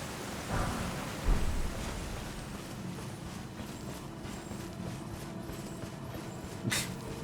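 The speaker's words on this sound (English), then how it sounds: "The random rain." Rain falls steadily in a video game, a constant hiss with a soft low rumble of thunder near the start and a few faint thuds, no talk over it.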